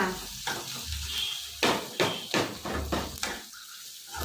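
Radish chutney with grated coconut and tamarind fried in a pan, a soft sizzle under repeated scraping and knocking of a spatula against the pan, close and moderately loud.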